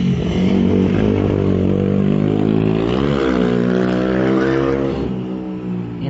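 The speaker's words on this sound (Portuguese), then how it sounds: "deixa essa moto passar que está gravando." A motorcycle passes on a street, its engine droning loud and steady, the pitch bending as it goes by, then easing slightly as it moves away.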